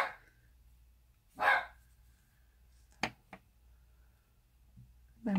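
A dog barks indoors during a crochet tutorial, sounding as a couple of short, sharp barks spread across a few seconds against a quiet room, with faint background noise.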